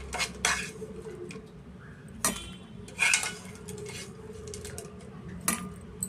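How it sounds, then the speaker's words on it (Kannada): A spoon clinks against a mixer jar as spices are added for obbattu saaru, a few sharp metallic taps spaced apart over a steady low background hum. "ನಾನು ಜಾರಿಗೆ ಸೇರಿಸ್ಕೊತೀನಿ"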